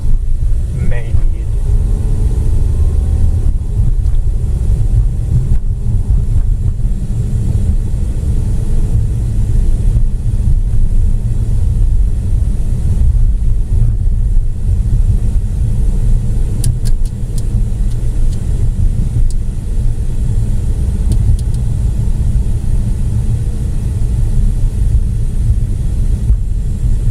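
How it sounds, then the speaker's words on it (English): A car brakes and drives along slick, snowy Wisconsin roads during a winter storm, a steady loud low engine and tire rumble with a brief squeal at the start, continuous throughout. "Just hit the brakes a little harder than usual to get a better feel for how slick the roads actually are"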